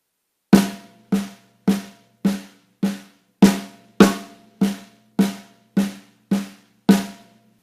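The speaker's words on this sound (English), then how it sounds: "all it was a 6-stroke roll" A six-stroke roll on a snare drum is played slowly and evenly, with a dozen crisp, close strokes at a steady pulse, each short crack decaying quickly before the next. No voices.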